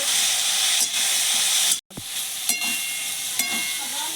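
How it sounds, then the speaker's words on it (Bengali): Potato and eggplant frying in mustard oil with salt and turmeric: a loud, steady hissing sizzle that cuts out for a moment and resumes, with occasional clinks of a utensil against the pan. "আলু বেগুনটা একটু ভাজা ভাজা করে নেব।"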